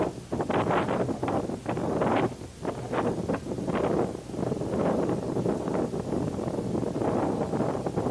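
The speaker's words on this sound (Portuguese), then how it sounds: "Olha o barulho do vento." Strong wind blowing in heavy gusts from a played-back recording, a loud sustained rush with surging bursts and rustling throughout, with no voices over it.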